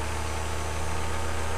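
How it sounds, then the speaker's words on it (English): An engine under test runs steadily at full throttle during a static run-up, giving a dense, continuous drone with a fairly constant pitch and no pauses or voices throughout. "We're now preparing to do a full throttle RPM static run-up on the engine."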